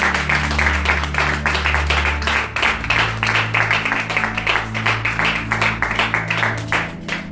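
A church congregation applauds with steady, dense clapping that continues throughout, loud and close, over a sustained background hum.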